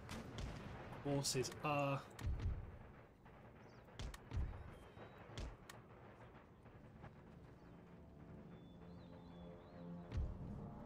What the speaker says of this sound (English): My artillery engage.